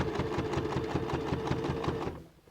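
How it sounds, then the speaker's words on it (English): Steady rapid stitching of a sewing machine sewing denim for a recycled-jeans shopping bag, a close, even mechanical chatter that runs continuously and stops just before the end. "Now when I come to the end, I go and sew on the other side."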